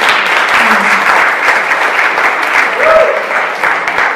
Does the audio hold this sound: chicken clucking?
no